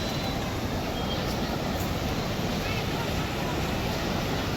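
Flowing river water at Panchvati Ganga Ghat in Nashik rushes in a steady, broad, noisy wash, loud and continuous, with wind buffeting the microphone.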